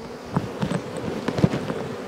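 Honeybees buzz around an open hive from a very populous colony, a close, steady low drone with brief louder swells as individual bees pass near.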